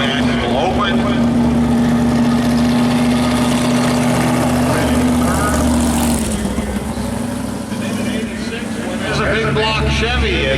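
A loud, steady big block Chevy sprint car engine idles with a deep rumble and a sustained low hum, and someone talks over it throughout.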